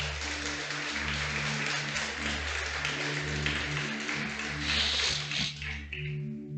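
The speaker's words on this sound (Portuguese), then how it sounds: "Pode aplaudir a palavra do Senhor." A church congregation claps at a Portuguese-language service, steady broadband applause sustained throughout with a low musical drone underneath.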